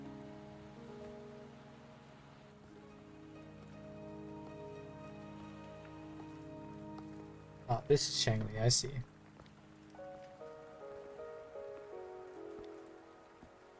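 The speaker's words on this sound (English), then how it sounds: "Are you trapped here by the rain?" Rain patters steadily in the video game Wuthering Waves beneath background music, while a character speaks briefly partway through.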